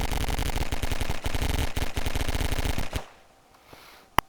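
A turret in the Garry's Mod Wiremod video game fires a loud, rapid automatic burst for about three seconds, then stops, leaving near silence and a single faint click at the end.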